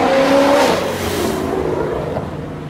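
A V8 car engine revving loudly up close, a rising growl that eases off into a lower, rumbling idle over a couple of seconds.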